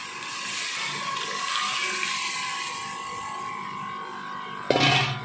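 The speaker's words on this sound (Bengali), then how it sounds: "মশলাটা ভাজা হয়ে গেছে আমি এবার ডালটা" Lentils tipped into a pan of fried spices with Kashmiri chilli powder for ridge gourd dal: a steady oily sizzle runs throughout, then a sudden loud splashy burst of hissing near the end.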